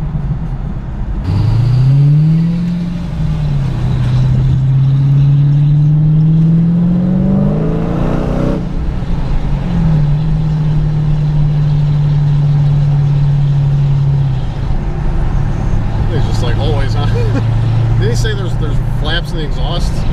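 A Dodge Hellcat's exhaust rumbles loudly while the engine revs up and holds in long rising sweeps, then eases to a steady drone, with people talking over it.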